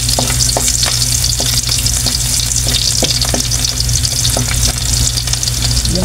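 Garlic sautéing in hot oil in a pan for bangus steak, a loud continuous sizzle with rapid crackling pops and occasional stirring scrapes, no talking.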